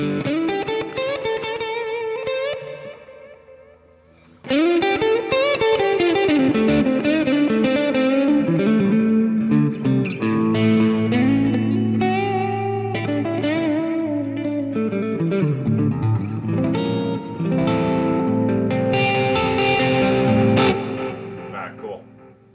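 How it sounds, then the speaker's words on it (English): Electric guitar, a new PRS, with overdriven tone from a Quattro drive, echoing delay and wide reverb from a Quad Cortex, playing sustained chords and melodic lines continuously with a brief dip near the start. "the reverb is coming from the quad cortex with the delay, and the drive is coming from the quattro"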